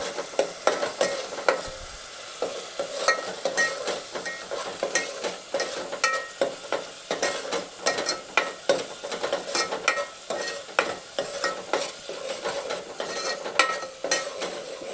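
Onion-tomato paste for street-style pav bhaji is stir-fried in oil, rhythmic scraping strokes of a spoon or spatula knocking and sliding in the pan over a soft, steady sizzle.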